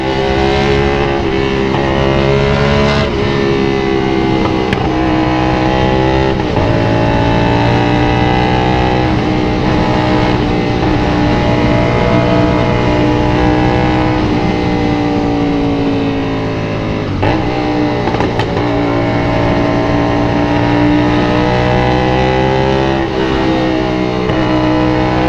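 A 450SR motorcycle fitted with a full-system exhaust runs along the NLEX expressway, its engine roaring loud and close in a sustained drone, with brief dips in pitch at gear changes before it climbs again.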